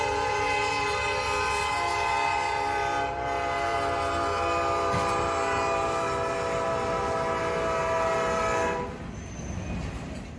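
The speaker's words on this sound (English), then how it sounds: "Watch a speeding train slam into a helpless car stranded directly on the tracks." A speeding train in Duluth, Georgia, bearing down on a car stranded on the tracks, blares one long, loud, steady horn for about nine seconds, which then cuts off, leaving a rumbling roll.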